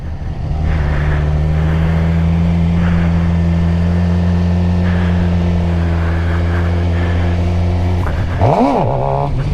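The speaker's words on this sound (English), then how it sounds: "That was more of like a power wheelie, kind of like ride it out a little bit" A stock Suzuki GSXR 600 motorcycle engine held at a steady, loud drone, then rising and falling sharply in a brief rev near the end, recorded up close.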